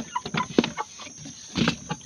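Asil roosters and chickens clucking at morning feeding time, a scatter of short, near clucks and calls in an irregular rhythm over faint farmyard background.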